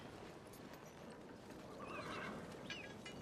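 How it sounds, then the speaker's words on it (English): Horses whinny in a medieval battle-era setting, with one neigh near the middle and another shortly after, over a steady bed of hoof clip-clops and a busy, noisy crowd of animals. "We need all these horses shod"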